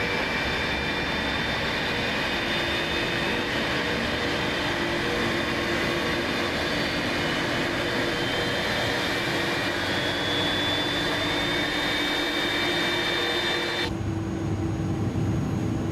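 The jet engines of a UPS Airbus A300-600RF freighter spool up at the gate in Mumbai, giving a loud, steady roar and whine with sustained tones. Near the end the sound drops abruptly.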